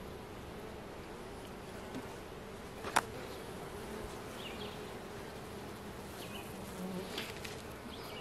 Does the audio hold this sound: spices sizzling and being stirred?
no